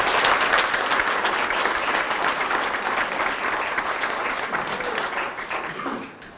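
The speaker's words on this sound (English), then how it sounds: "please give me a nice round of applause as we welcome Ms." An audience at a Holocaust museum speaker series bursts into sustained applause to welcome a speaker to the stage, a dense, steady wash of many hands clapping that fades out at the very end.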